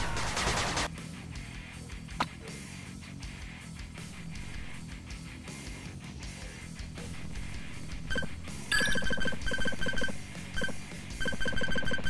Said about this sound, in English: Machine gun turret under attack.